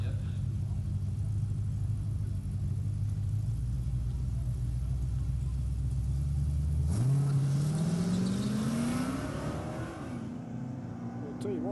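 An old drag racing car's engine rumbles at a steady idle, then revs sharply upward with a rising pitch, loud and fairly close at a dragway, with faint crowd noise behind.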